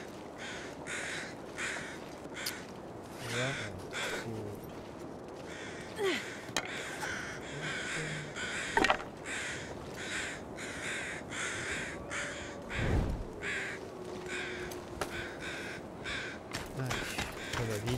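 Crows caw repeatedly in the survival video game The Long Dark, harsh calls recurring in a loose rhythm over wind-like background noise, with a voice speaking briefly and other faint game sounds.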